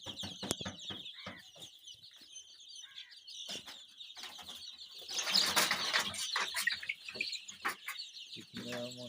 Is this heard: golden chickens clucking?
yes